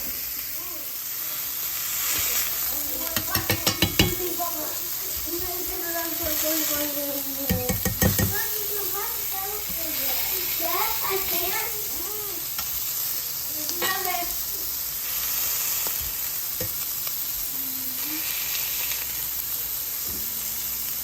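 Small sourdough silver dollar pancakes cooking on a griddle, a continuous close sizzle with hiss, broken by a few sharp scraping and tapping bursts of a utensil against the pan.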